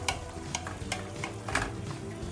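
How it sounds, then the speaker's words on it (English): Chicken malai kofta curry sauce with a cinnamon stick comes to a boil in a pan, giving faint, soft bubbling with sporadic pops and light sizzling at an uneven rhythm. "Now it's coming to a boil."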